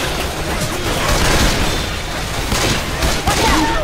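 Dense, loud gunfire from Left 4 Dead 2 rattles almost without pause, with booming shots layered over a constant roar of game noise.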